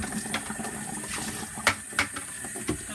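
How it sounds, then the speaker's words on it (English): Hot tap water runs into a basin for rinsing washed Romney wool, a soft steady trickle with a few sharper splashes and knocks, fairly faint and close. "I'm just going to use hot tap water and fill this with enough water to do the second rinse"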